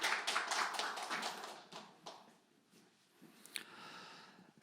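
Audience clapping at a Democratic Party campaign rally, a brief burst of crowd applause that fades after about two seconds into a quieter background with a few scattered claps.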